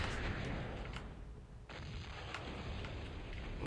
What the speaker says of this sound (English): And here goes a bombing run.